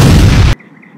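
Bombs go off in the Green Lantern Heroes Online video game as one loud, close blast that roars for about half a second and then cuts off sharply into faint background.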